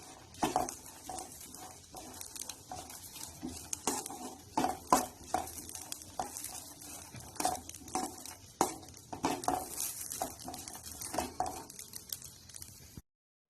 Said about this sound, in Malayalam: നമ്മളിതാ തേങ്ങ നന്നായിട്ട് നല്ല ബ്രൗൺ കളറാവുന്ന രീതിയിൽ വറുത്തെടുത്തിട്ടുണ്ട്